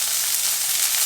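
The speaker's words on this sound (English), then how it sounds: "sizzling the edges of the fish" Fish fillets fry in hot oil in a pan, giving a steady, bright, close-up hiss of sizzling with no break and no voices.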